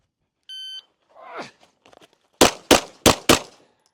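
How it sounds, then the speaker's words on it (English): A short electronic beep from a shot timer sounds during a pistol class, followed after some faint handling noises by four sharp pistol shots in quick succession. "I'll have to turn my timer on. Beep. Beep."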